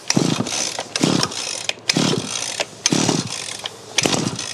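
The small petrol engine of a Mountfield multi-tool sputters and coughs in several short bursts on the pull start, each pull catching briefly before dying away, with brief pauses between attempts.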